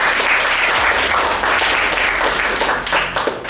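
Applause breaks out from a lecture audience, a loud, dense burst of clapping that swells and then tapers off over a few seconds.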